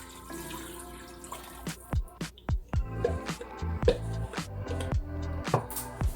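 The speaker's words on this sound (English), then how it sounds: "Now I'll add in the rest of the broth." Broth pours into a pot of soup on the stove, giving a splashing, trickling stream with scattered drips and plops, moderately close and alone without talk.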